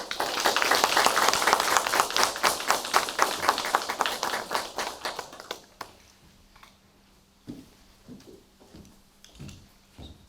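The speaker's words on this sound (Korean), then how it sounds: "모두 큰 박수로 최강직 교수님을 환영해 주시면 고맙겠습니다" A lecture audience at a research institute anniversary special lecture claps to welcome a professor, brisk rhythmic applause that fades after about five seconds into scattered room sounds and a few isolated claps.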